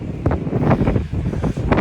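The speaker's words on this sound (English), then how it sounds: "It's windy." Strong wind gusts buffet the microphone outdoors in Yorkshire, a continuous rumbling roar with no one speaking.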